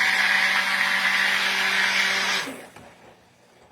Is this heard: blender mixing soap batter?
yes